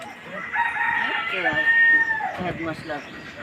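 Backyard chickens of several breeds, including Tiger, Australorp and American Burma, clucking while a rooster crows loudly nearby, with a person speaking over the birds.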